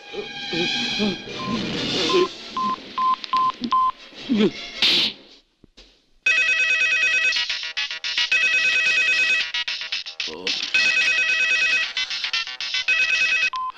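A phone dials and then a loud electronic ringtone plays on and on, repeating its melody after a brief silence.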